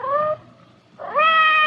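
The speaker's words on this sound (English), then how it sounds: "It sounded like Madame's cat, Francois." A house cat meows twice just outside a door, a short cry followed by a longer rising meow after a brief pause, near and clear.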